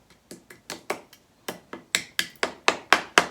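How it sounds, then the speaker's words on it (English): A hammer strikes a thumbtack into tough wood in about a dozen sharp, close taps, sparse at first and then quickening into a steady, louder run of blows. "I'm going to use the hammer."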